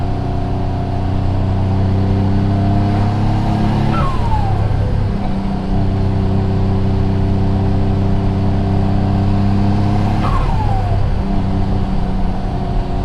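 A rebuilt forged twin-turbo Mitsubishi 3000GT with a 6G72 V6 drives on its first outing, engine humming loud and close with two rising pulls around upshifts, no voices.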